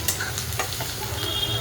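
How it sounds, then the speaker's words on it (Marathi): Curry leaves dropped into hot oil over frying onion and chilli for a Maharashtrian besan pitla, crackling in a dense, continuous close sizzle with a low burner rumble underneath. "आता कढीपत्ता टाकते."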